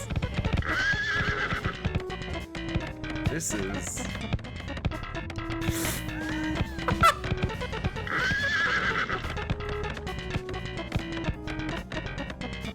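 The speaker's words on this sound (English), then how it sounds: "I did not expect the horse to be balling" Horses whinny in two loud, trilling neighs several seconds apart over a continuous rapid clip-clop of hooves, with bursts of music-like tones and a brief spoken voice, likely from a horse-racing game.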